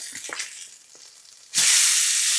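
Salmon laid skin side down into a hot pan: a few soft knocks and a low hiss, then a sudden loud, sustained sizzle close up.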